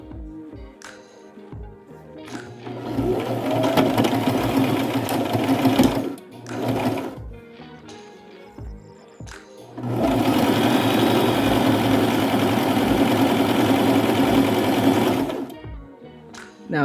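A sewing machine stitches a fabric scrunchie in two long, steady whirring runs, close and loud, separated by short pauses and a few brief clicks as the fabric is adjusted.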